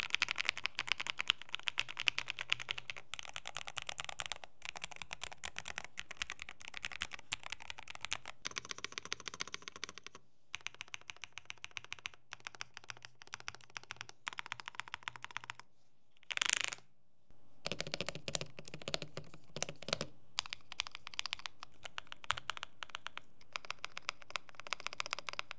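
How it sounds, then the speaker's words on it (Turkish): Rapid clacky keystrokes on an Ajazz AK820 Pro mechanical keyboard, close and steady in bursts of continuous typing, with a brief pause and a short louder clatter partway through. "Hatta gelin size switch seslerini dinleteyim."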